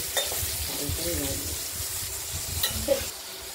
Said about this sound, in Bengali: এই পটলগুলোকে আমরা একটু হালকা ভেজে নেব